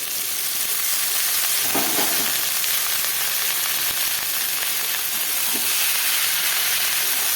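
Boiled potatoes and figs frying in spiced oil in a pan, giving a loud, steady sizzle and hiss throughout with faint stirring scrapes and no talking.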